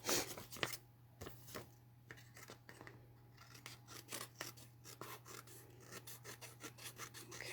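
Scissors trim a paper card flap with steady rasping snips and rubbing paper sounds, quiet and close, over a constant low background hum.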